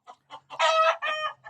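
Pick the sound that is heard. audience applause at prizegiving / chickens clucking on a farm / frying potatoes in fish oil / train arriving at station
chickens clucking on a farm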